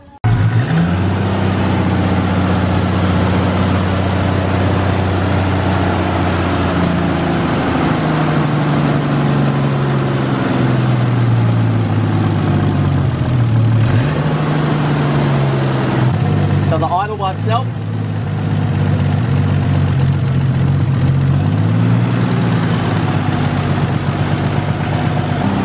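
A Nissan R33 Skyline engine idles steadily and close up after repairs, held around 2,000 rpm to run in, with a slight dip and pickup in pitch partway through and brief clattering noises.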